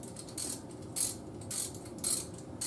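A ratchet wrench loosening fan clutch bolts during a fan clutch replacement, giving repeated bursts of bright metallic clicking separated by short pauses, close and moderately loud with no talking.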